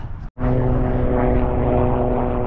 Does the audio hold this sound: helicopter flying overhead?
yes